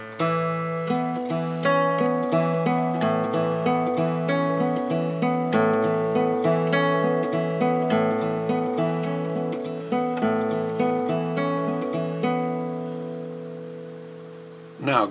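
Slow, deliberate guitar picking of bar 7 of a song, an arpeggiated pattern of evenly spaced plucked notes ringing together, played alone at a moderate level.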